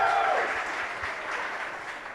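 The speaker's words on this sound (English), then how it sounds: "you've got to give yourself a round of applause for just that" Audience applause at a student ballroom-style dance competition, following a couple's first dance, a steady dense wash of clapping from a sizeable crowd, sustained at even volume throughout with faint voices beneath.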